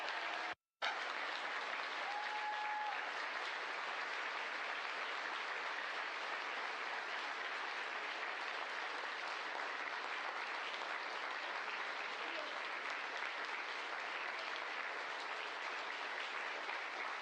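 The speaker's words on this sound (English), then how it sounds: "Jubilation here in the flight control room." Sustained applause and cheering fill a flight control room after a crew capsule's splashdown southwest of San Diego, a dense steady roar of many people clapping that continues throughout.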